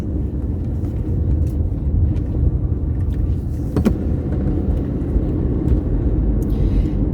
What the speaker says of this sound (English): I'm driving right along the Israeli-Jordan border, which is on my left over here.